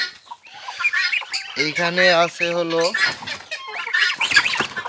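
Fancy chickens on an outdoor farm cluck and call in a busy overlapping run, close and fairly loud, with harmonic squawks rising among the clucks and someone speaking briefly amid them.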